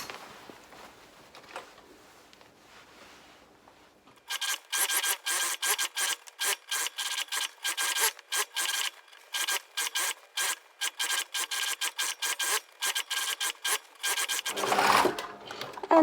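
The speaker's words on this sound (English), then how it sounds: "Now I'm going to sew a second pass of sewing on the other row of stitching that I've got on my trim" A sewing machine running a second line of stitching along jacket trim, starting after a quiet pause with rapid bursts of needle chatter in short start-stop runs, close and loud.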